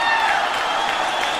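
An audience at the first national convention of the Rastriya Swatantra Party claps to welcome the party chairman and the prime minister, a brief, dense burst of applause.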